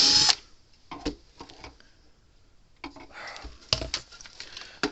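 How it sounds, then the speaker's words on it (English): Screws being worked out of a Zareba 50-mile electric fence charger during repair: a few short, sharp clicks and scrapes of tool on metal, close up, separated by quiet gaps. "See if we can get all these screws out now."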